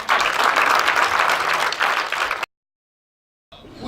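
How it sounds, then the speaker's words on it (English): A crowd at a Universal Children's Day celebration in Kololo claps louder, a dense burst of applause that cuts off abruptly into silence, then a faint clatter of clapping resumes at the end. "I'm sure they can clap louder."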